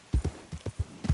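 Horse hooves gallop in Red Dead Redemption 2, a quick run of thudding clip-clop beats, close and fairly loud, with no talk.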